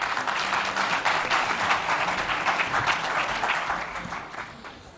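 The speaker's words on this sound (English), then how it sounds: "An applause, please." Audience at a global forum on childhood pneumonia applauds, a sustained burst of dense clapping that stays loud for several seconds and tapers slightly at the end.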